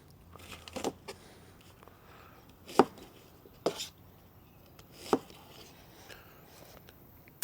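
An onion being chopped on a board for homemade hot sauce, giving a few sparse, separate knife strikes with quiet pauses between them.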